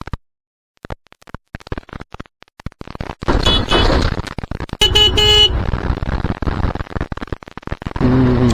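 A vehicle horn honks on a busy road, a short harmonic blast rising over rumbling engine and traffic noise, after a run of sharp knocks and clicks near the microphone.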